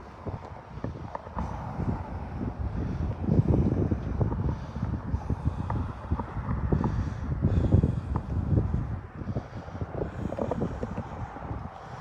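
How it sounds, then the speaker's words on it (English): Strong wind buffets the microphone in continuous gusty rumbles during a wildfire evacuation in Fort Nelson, with faint flag flapping and rattling beneath the roar. "Very windy."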